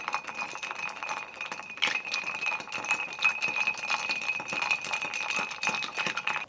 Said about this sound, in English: Take one of my big cubes here, give it a crack. And give it a stir for about 20 seconds.